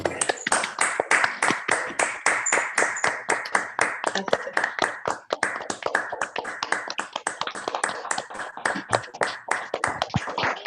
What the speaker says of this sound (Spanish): si quieren abramos los micrófonos para dar un aplauso